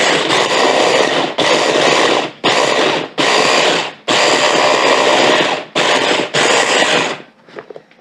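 A food processor chops salsa ingredients in seven loud, close pulses of whirring blade noise separated by short pauses, ending in a faint rattle.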